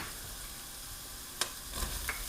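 Minced garlic sizzles quietly in a soup pot for wedding soup, a faint steady frying hiss with a few clinks of a utensil against the pot.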